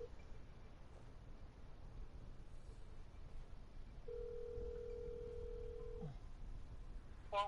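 A telephone call rings out unanswered, a single steady tone of about two seconds sounding faintly over a low background hum with no one talking.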